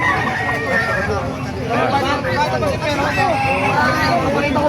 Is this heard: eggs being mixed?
no